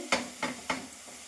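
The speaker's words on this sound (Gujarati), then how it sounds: "આપણા ગાજર સરસ કૂક થઈ રહ્યા છે" Grated carrots cooking in ghee for carrot kheer, with three close, rhythmic stirring scrapes over a soft, steady sizzle.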